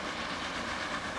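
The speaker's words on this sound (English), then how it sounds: "we watch an incredibly expensive, pointless train riding around a 47-minute journey" Steady rolling rumble of a train running along rails in a video game about building transport lines, continuous and moderately loud with no breaks or horn.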